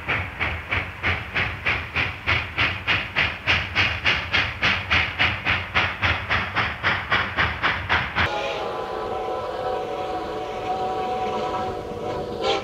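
A Reading Railroad freight train pushed by a Mallet steam locomotive gives loud, rhythmic exhaust chuffs in a steady beat, then gives way to a continuous rumble and rolling rail noise as the cars pass.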